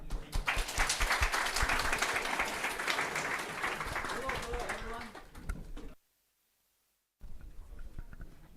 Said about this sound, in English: Please give him a round of applause and welcome him.